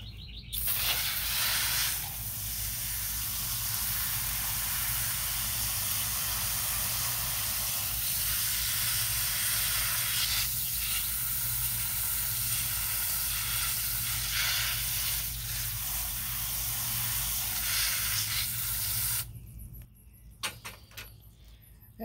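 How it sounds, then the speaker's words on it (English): A steady, close hiss of water sprayed over newly divided Heuchera plants in a garden bed, continuous for about twenty seconds before cutting off abruptly. "And now we are good to start with some watering."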